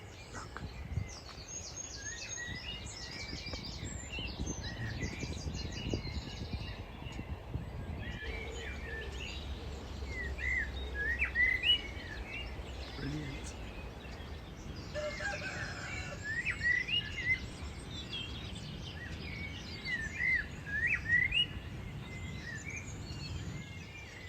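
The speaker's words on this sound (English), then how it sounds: "Do you hear that? Hurdy-gurdy." A bird called the hurdy-gurdy bird gives bursts of quick, high, chattering calls repeated at intervals against an outdoor background with low rumble, and a person speaks briefly.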